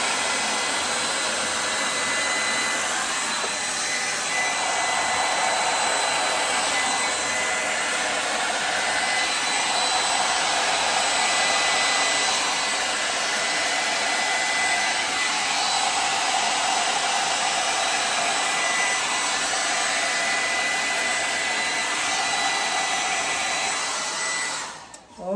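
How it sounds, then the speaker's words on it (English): A steady, loud rush of blown air, like a dryer, aimed at a wet acrylic pour painting in blues and garnet, running unbroken for about twenty-five seconds with slight swells in pitch before cutting off. "let's just blow it and see what happens. I'll have to blow upside down like this."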